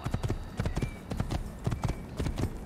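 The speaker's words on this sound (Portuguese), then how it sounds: "cavalinho. Vamos lá, pocotó." Horse hooves clip-clop steadily in the Assassin's Creed video game, a rhythmic, evenly paced trot heard close and clear throughout with no talk.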